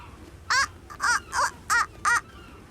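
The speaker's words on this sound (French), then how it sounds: "ces oiseaux n'arrêtent pas de nous suivre. Oui, ce sont des mouettes." Seagulls trailing a car ferry in a cartoon give five loud, harsh calls in an uneven rhythm over a faint background hum.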